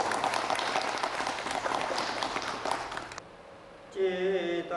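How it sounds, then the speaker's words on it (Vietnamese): Audience applause at a Buddhist dharma talk, a dense, steady crowd clapping that fills the first three seconds and then cuts off, followed by a quieter pause and the start of a sung or chanted voice. "chào tất cả Phật tử một tràng pháo tay thân mật"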